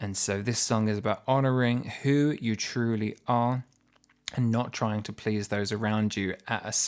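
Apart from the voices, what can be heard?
None of the usual background noises is heard.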